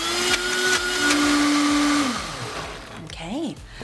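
A blender whirs loudly through a vegan dip mix of white wine vinegar and salt, steady for about two seconds before spinning down, with a voice briefly rising at the end.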